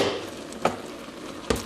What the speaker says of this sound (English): the mushrooms have been cooking for exactly 4 minutes